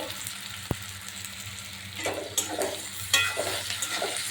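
Onions frying in hot oil until browned, a close continuous sizzle with stirring scrapes and a few louder bursts of spatter in the second half.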